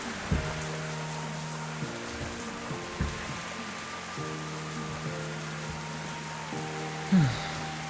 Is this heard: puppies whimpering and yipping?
no